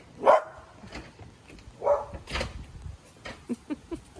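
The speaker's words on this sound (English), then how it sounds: "Our guard dog is apparently found something." A female guard dog barks near a Big Green Egg outdoor cooker: a few loud, close barks spread out, then quieter yips and whimpers.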